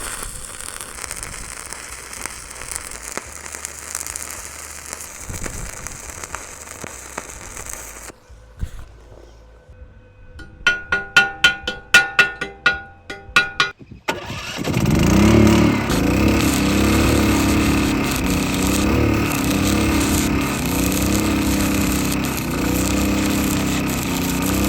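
Budget all-in-one welder run at maximum amperage on 220 volts, a sharp crackling burst of arc pops followed by a loud sustained buzzing, sizzling arc that runs steadily to the end.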